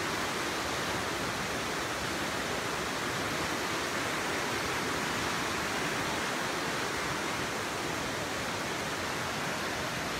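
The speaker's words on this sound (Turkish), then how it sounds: "At İzi şelaleleri birincisindeyiz." At İzi waterfall rushes in a green mountain valley, a loud, continuous roar of falling water that stays even and unbroken throughout, with no voices over it.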